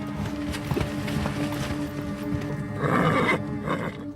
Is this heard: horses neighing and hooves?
yes